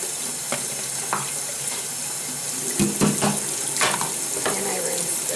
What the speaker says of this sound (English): I just take this and rinse it with hot water